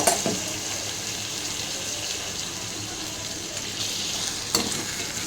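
Marinated chicken stirred in a hot pan for Punjabi-style chicken curry, a soft continuous sizzle with a scrape at the start and another near the end, fairly quiet, no talk.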